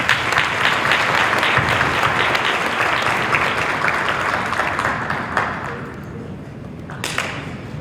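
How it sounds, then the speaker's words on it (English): A cotillion crowd gives dense, loud applause for the debutantes, holding strong and then tapering off, with a few louder isolated claps and faint voices as it fades. "So let's give them a round of applause."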